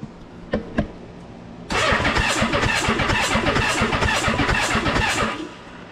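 A 1984 Honda Goldwing cafe racer engine catches after a couple of sharp clicks, then runs loud and close with a rapid, steady pulsing idle for several seconds before cutting off.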